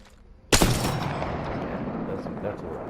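A single loud, sharp sniper rifle shot in Apex Legends cracks out after a brief quiet moment, then rings and rumbles away over the next couple of seconds, with no talking over it.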